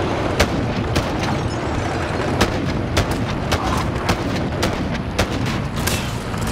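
Rocket launcher fire and explosions in the video game Modern Warfare: a steady barrage of sharp booms and blasts repeating every half second or so over a dense, loud rumble of battle noise.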